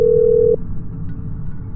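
A steady telephone dial tone hums clearly for about half a second during a phone call, then cuts off, leaving only a low background rumble.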